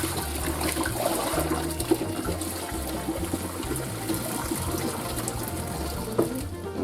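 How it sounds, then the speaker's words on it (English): Hot pasta water poured off through a strainer into a kitchen sink, a steady rushing and splashing pour lasting several seconds, close and moderately loud, with no talking. "drain off all the water, make sure your noodles are nice and dry"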